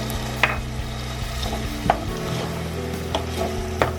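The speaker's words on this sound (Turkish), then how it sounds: "Böyle güzelce birlikte onları biraz daha kavrulsun." Chopped vegetables and tomato juice cook in a pan for Turkish chicken soup. A soft steady sizzle runs under several sharp clicks and scrapes as a utensil stirs against the pan. No one speaks.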